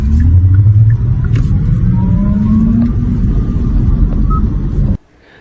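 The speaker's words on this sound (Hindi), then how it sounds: "सड़क पर सिर्फ कार के इंजन के चलने की आवाज़ ही आ रही थी।" A car engine hums and rumbles steadily on a dark, empty road at night, loud and close, then cuts off abruptly near the end.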